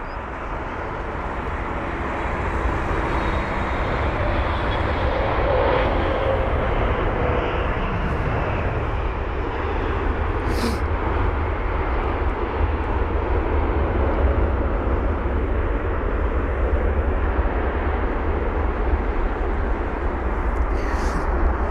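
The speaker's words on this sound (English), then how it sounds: "this Kuwait Airways 777-300ER with the reg 9 Kilo Alpha Oscar Lima from Kuwait City" A Kuwait Airways Boeing 777-300ER jet lands at London Heathrow with a continuous loud, broadband engine roar and rumble that holds steady throughout, with no talk over it.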